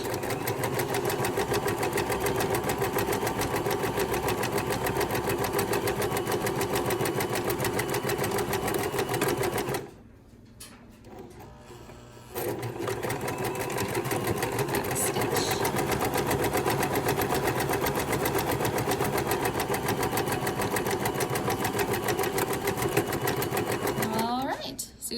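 Sewing machine back stitching at a quilting class, a close, steady motor whir with rapid needle clatter that stops briefly partway through, then resumes and runs on continuously.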